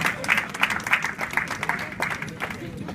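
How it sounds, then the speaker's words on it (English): A room full of people at a stage magic show claps steadily, a warm, even burst of applause that holds at the same level throughout. "Give him this round of applause."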